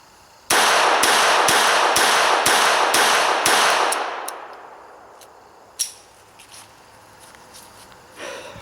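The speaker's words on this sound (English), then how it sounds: "now I'm at 5, and again, I'm going to try to shoot reasonably fast" Rapid string of about eight sharp pistol shots from an NAA Guardian .32 fired at 5 yards, evenly spaced and loud, ringing off, followed by quieter handling clicks.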